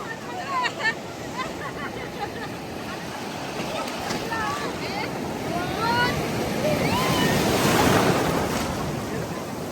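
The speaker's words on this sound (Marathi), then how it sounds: "समुद्रामधील लाटा उंचावत आहे तुम्ही बघू शकता" Sea waves surge and crash steadily on the beach at Murud, with wind buffeting the microphone and faint voices in the background, the surf swelling louder toward the end.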